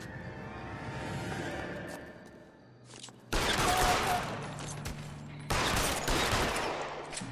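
Gunfire in the video game L.A. Noire, loud bursts of rapid shots breaking out suddenly and continuing in dense volleys after a quieter rumbling stretch.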